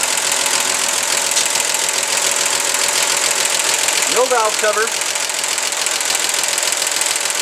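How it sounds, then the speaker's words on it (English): A 1952 Chevy Styleline inline-six, a 216 or 235, idles steadily with its valve cover off, giving a busy rhythmic ticking clatter over a constant engine hum. Someone speaks briefly partway through. "Engine running."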